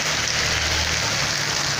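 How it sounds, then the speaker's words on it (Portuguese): Heavy rain pours steadily over the city centre streets of Serra Talhada in Brazil's Northeast, a dense, constant hiss with no breaks. "Uma tarde de chuva aqui no Nordeste"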